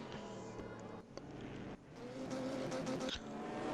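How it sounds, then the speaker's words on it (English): A race car in a racing video game runs off track into the ditch, its engine droning and rising with scraping, skidding noises, faint and at a distance. "We can hear a car in the ditch."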